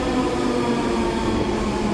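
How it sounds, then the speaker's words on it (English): A westbound train at New Westminster station rumbles continuously at moderate distance, a steady broadband roar with a faint low hum and no clear wheel clicks. "Oh, I heard a train or something nearby."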